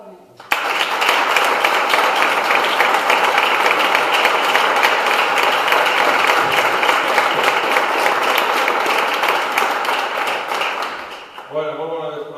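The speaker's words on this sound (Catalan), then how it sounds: "Un fort aplaudiment." Strong, sustained applause from a crowd at a Compromís campaign rally in a town, loud and continuous for about ten seconds before fading out, with a voice starting briefly at the end.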